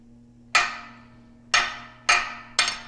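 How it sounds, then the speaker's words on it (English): A hammer strikes a junk bearing race during a Minneapolis Moline G1355 tractor transmission disassembly, four sharp metallic blows with ringing decay, irregularly spaced, close and loud over a low steady hum. "Okay, and the hammer."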